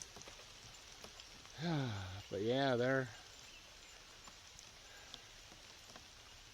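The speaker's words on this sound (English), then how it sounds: "I don't know if that's just rain coming off or water coming off the trees or it's raining again" Steady light patter of rain dripping through trees on a goat farm, a soft continuous hiss with faint drops, interrupted briefly by a short spoken phrase.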